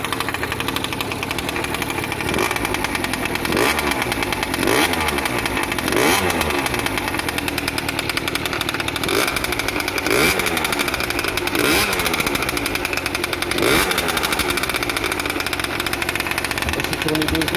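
A Booster scooter engine, just started after a carburettor was fitted, idles loudly and continuously nearby, with an even, rhythmic two-stroke putter and regular pulses throughout.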